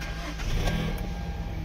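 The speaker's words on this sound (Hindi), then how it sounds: "मैं आप लोग को गाड़ी स्टार्ट करके भी एक बार चेक करवा दूं।" A 2014 Hyundai Elantra with a 2000cc engine cranks and fires up at a used car market, a brief, close engine start that settles into a steady idle.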